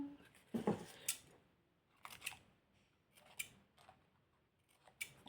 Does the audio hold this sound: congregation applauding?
no